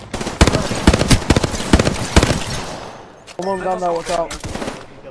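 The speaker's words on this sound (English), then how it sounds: "Shots fired at me." Apex Legends gunfire, a loud close series of sharp shots in an uneven rapid rhythm over about three seconds, followed by a voice talking.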